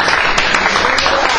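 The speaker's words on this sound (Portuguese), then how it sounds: "Vocês podem aplaudir ao Senhor nesta noite." Congregation clapping during a church service, a loud, continuous wash of many hands close by, with no gaps over the short stretch.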